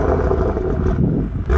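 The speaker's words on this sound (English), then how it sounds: "give you a little rev time here in just regular idle" BMW M235i fitted with an aftermarket M exhaust, blipped from idle: a loud, close engine rev that swells and holds, then dips with a brief catch near the end, with no voices.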